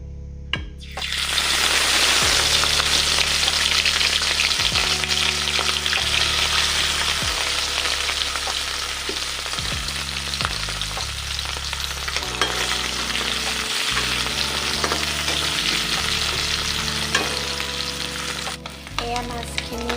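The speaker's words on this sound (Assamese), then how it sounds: "প্ৰথমে মই মাছখিনি ফ্ৰাই কৰি ল'ম।" Small fish frying in hot mustard oil in a wok for a banana flower bhaji, a loud, steady, dense sizzle that starts abruptly and holds for the whole stretch, close up with occasional stirring scrapes.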